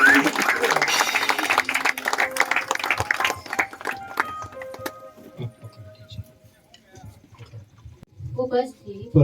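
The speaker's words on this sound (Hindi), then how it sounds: "आइए हम लोग जोरदार ताली बजाएंगे।" Wedding guests at a Christian marriage ceremony break into vigorous clapping, loud and dense at first, then tapering into scattered claps and fading, with people talking over the end.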